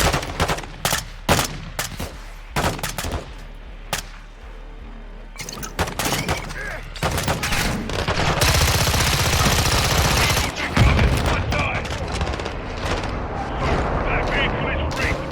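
Call of Duty MW2 campaign cover fire: sharp individual gunshots crack in quick succession, then give way to sustained heavy machine-gun fire and explosions, with voices talking over the action.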